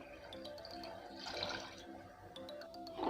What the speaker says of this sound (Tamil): இப்போ ஒரு கிளாஸ் போல் தண்ணி ஊற்றிடலாம்.